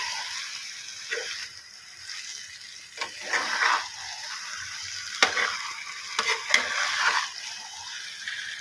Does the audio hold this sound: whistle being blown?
no